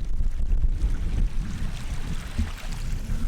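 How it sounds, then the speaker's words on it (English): Strong, steady wind buffets the microphone on an exposed mountain top, a dense low rumbling roar that gusts and swells throughout without pause. "it's a lot windier up the top for sure"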